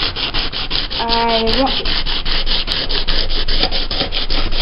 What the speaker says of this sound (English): you just keep sanding until you get it to shine at least a little more than it was